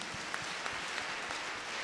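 Church congregation applauding during a sermon, a dense steady wash of clapping with a few sharper claps, fairly quiet and without talk.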